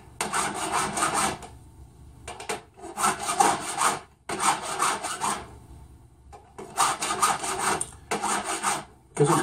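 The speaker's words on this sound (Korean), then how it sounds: "이렇게 서로가 돌려가면서 전체 면을 이렇게 줄 작업을" A metal ring is filed by hand, the file rasping in long repeated bursts with short pauses between strokes as the ring is turned to work around its whole rounded surface at jewelry bench work.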